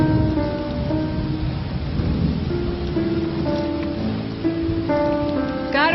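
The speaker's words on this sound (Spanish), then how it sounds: "¿Estuviste bajo la lluvia todo este tiempo?" Heavy rain pouring steadily with rumbling thunder underneath, a continuous dense wash of sound close by, with no talking.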